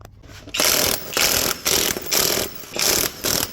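A ratchet wrench spins off the lug nuts on a 1999-2006 Chevrolet Silverado wheel, giving loud, close bursts of rapid clicking that repeat about six times in a steady on-off rhythm.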